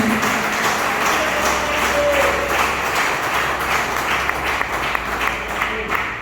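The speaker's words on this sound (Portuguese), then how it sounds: "Glorifica pelas palmas, somente até aqui." Church congregation clapping together in steady, dense applause filling the room, loud and continuous, with faint voices mixed in.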